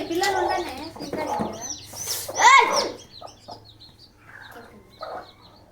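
A hen clucks repeatedly, close by, with chicks peeping in short bursts, and people talk over parts of it.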